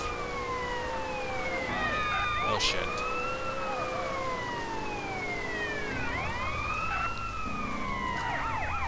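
A police siren in the video game GTA San Andreas wails continuously, rising and falling in looping sweeps, loud and close, with a brief exclamation spoken over it.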